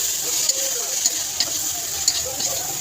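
Green chilies dropped into a hot pan of frying potato curry sizzle steadily while a spoon stirs, with a few sharp scraping ticks against the pan; close and continuous, with no talk.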